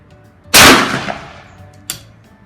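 A single loud, close gunshot from a Baikal gun at a shooting range, a sharp crack with a ringing tail that decays over about a second, followed by a fainter metallic click.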